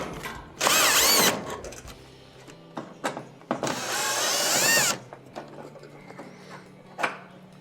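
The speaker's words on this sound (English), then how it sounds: "take the two screws out that hold the motor in" Two bursts of a cordless power driver remove the screws holding the latch motor on a Whirlpool/Kenmore range, each a loud whirring run of about a second with light clicks and handling noises between them.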